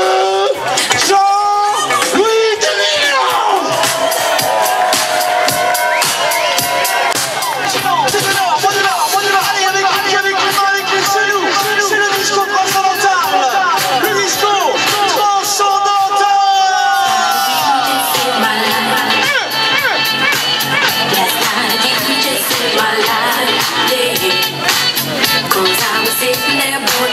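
A festival crowd at Terre du son Festi'Valmont 2012 cheers and whoops loudly and continuously, with shouts and excited babble over music for the whole stretch.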